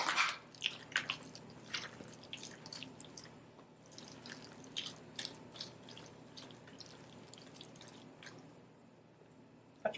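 Pickle juice goes into a vegan potato salad with close, wet dripping and splashing. Irregular drops and squishy spatters continue throughout, with no talking.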